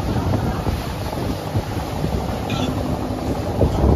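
A boat runs across open water off Dubai, with steady wind buffeting the microphone and a broad rushing of water and hull noise throughout, with no voices.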